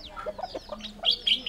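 Domestic chickens on a Bissagos island cluck and chatter nearby in quick, uneven bursts, with a few higher squawks near the end. The sound is moderately loud over a quiet background.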